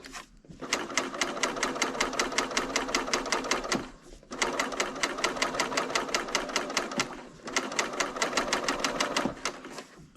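A Bernina serger stitches around a piped crochet pot holder with a fast, loud, rhythmic mechanical chatter in three long bursts separated by short stops, close up, with no talking.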